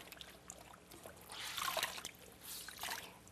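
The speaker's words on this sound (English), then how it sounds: "Next, we put the towel in the cold water again." A towel dipped into cold water gives a faint, quiet trickling and dribbling with soft splashy swells, close by and without voices.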